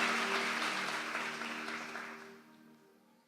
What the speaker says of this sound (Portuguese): dê mais um aplauso